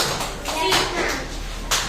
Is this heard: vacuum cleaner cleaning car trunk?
no